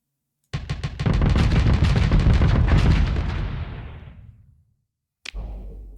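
Ship weapons fire in the Starsector space combat game as a loud, rapid rattling barrage of shots. It swells into a dense roar, then decays over several seconds, and a single sharp blast follows after a short silence.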